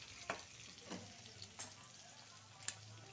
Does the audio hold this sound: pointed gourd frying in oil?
yes